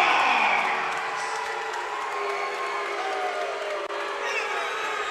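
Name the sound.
crowd booing at MMA fight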